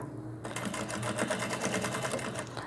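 A sewing machine runs steadily, stitching around a cloth doll's dress with a quick backstitch, giving a close, even mechanical whir throughout.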